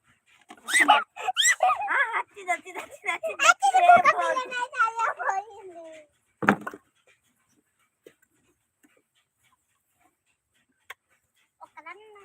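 A small dog whimpers and yips in a close burst of high, wavering cries lasting several seconds, then gives one sharp yelp before near silence broken by a few faint clicks.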